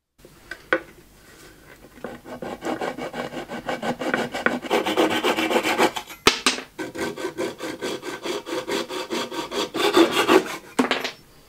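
Steady rasping of sandpaper on a glued wooden joint, continuous scratchy strokes close up with a few brief knocks, no talking.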